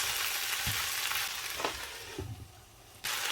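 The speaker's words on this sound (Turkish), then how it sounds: "Hafif sararana kadar kavuracağız." Green beans sautéing in a pan, a steady broadband sizzle with a few short knocks and stirring scrapes, close and continuous throughout.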